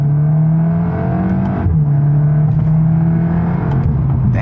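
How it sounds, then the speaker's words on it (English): A VW Golf R MK8 fitted with an APR intake accelerates hard in manual mode, its engine droning loudly and rising through a gear before a brief dip at a shift and a renewed steady pull, heard close from inside. "You probably won't hear the intake as much as you're going to hear the motor"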